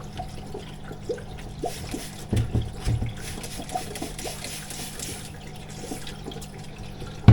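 Water is poured over a plant's aerial roots indoors, with close trickling, splashing and dripping that rises and falls for several seconds, fairly soft and with no talk.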